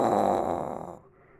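A person imitates a snore, giving one short, rough, rasping breath that fades out after a second.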